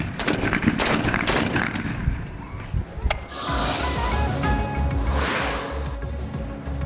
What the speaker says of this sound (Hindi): जदीद असलहे से हवाई फायरिंग